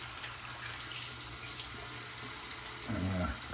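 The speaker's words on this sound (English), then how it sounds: "let me rinse my face" Tap water runs steadily into a sink while someone rinses their face after shaving, a faint continuous splash with a brief louder splashing burst near the end.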